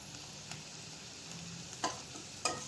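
Bell pepper zunka masala sautés gently in a pan over a low flame, a soft continuous sizzle broken by a few light scrapes and taps of a stirring spoon, quiet and close.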